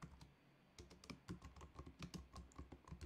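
Computer keyboard typing in irregular bursts of close, crisp key clicks, with short pauses between groups of keystrokes and no talking.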